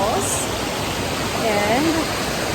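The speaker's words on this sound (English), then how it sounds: "We are at the top of the first layer of the waterfalls" Bulalacao Waterfalls in El Nido, Palawan roar from the top of the first tier, a loud, steady wash of falling water with a few faint high whistles or chirps above it.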